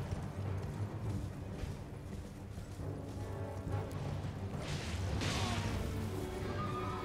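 A horse gallops in the Elden Ring video game with dense thudding clip-clop hooves under combat crashes and impacts, amid a continuous noisy game soundscape.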